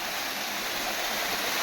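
A hidden waterfall in Govindpur, Nawada pours with a steady, dense roar of rushing water, loud and continuous with no breaks and no voices.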